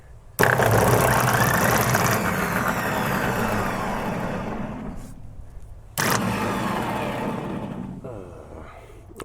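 A cheap skid steer engine cranks and catches, roaring up loudly, dying away, then cranking and firing again in a second close, rough burst.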